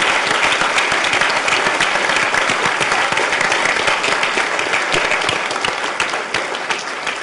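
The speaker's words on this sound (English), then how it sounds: "Frank, we want to give you a round of applause." A Forum Club of the Palm Beaches audience gives Frank Luntz a loud, sustained round of dense clapping that runs several seconds, then begins to thin slightly toward the end.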